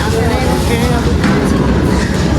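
A train rumbles steadily at a railway station, loud and close throughout the short stretch, with a continuous rolling clatter and no speech over it.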